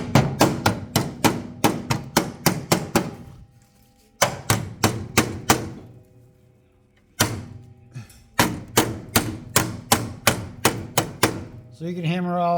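Rapid close hammer strikes on the flange of a steel floor panel being fitted to a floor rail, coming in three loud metallic bursts with short gaps and a brief voice near the end.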